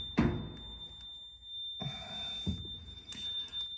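A digital multimeter, used while repairing a Maytag 2000 series clothes dryer, holds a thin, continuous high-pitched beep throughout, with a few dull handling thumps and rustles over it.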